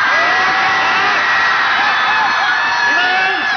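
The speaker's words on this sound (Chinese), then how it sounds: "用你们的掌声、欢呼声、跺脚声，再次欢迎 Running Man" A large audience of fans at a Running Man event in Shanghai roars with loud, sustained cheering and screaming throughout, a dense crowd wall of voices.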